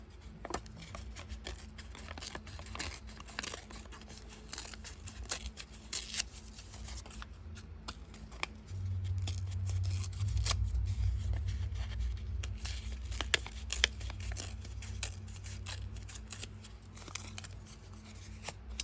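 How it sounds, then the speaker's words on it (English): Paper card is torn by hand in short ripping bursts scattered through a quiet room, along with crisp rustles and a low rumble that comes and goes partway through. "I'm going to tear this thing as, close as I can"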